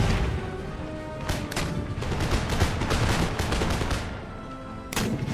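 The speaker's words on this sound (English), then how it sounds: "He let loose with his pistol." Volleys of pistol and musket fire crackle through an Empire: Total War battle, dense overlapping shots with sharp cracks around 1.3, 1.6 and 5 seconds over a constant din of distant battlefield noise.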